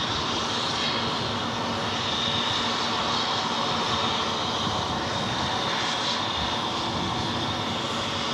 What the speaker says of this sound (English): the Virgin flight with Captain Chris should be pushing back from gate 5 here shortly